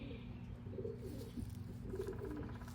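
A racing pigeon coos softly at close range, low murmuring calls in a few short bursts over a steady background hum.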